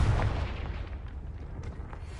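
A Confringo blasting spell cast in Hogwarts Legacy, a single deep booming burst at the start that fades into a low rumbling tail, moderately loud with no talking.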